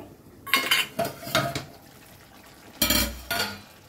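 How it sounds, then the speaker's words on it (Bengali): The lid comes off a cooking pot of chicken dum pokto with a series of close metallic clanks and scrapes. Clattering bursts are separated by short quiet pauses, and a heavier clunk comes near the end. "এবারে ঢাকনাটা খুলবো।"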